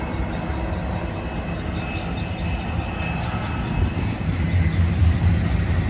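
A BNSF intermodal stack train led by a Norfolk Southern locomotive rumbles past, a steady loud roar of wheels and engine that builds slightly toward the end, with no voices.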